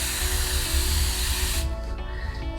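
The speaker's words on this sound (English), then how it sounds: "So I'm gonna spray it, and I'm gonna do just the one side for now." Bounce 3 in 1 spray misted from a bottle onto fabric, a loud steady hiss for about a second and a half that cuts off into quiet, with no talking.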